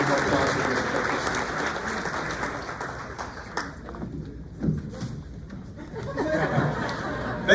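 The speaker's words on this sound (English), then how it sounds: "let's give all of our new members a round of applause" Applause for new members at a graduation ceremony, a sustained crowd of clapping with scattered laughter and chatter, loud at first and thinning toward the end.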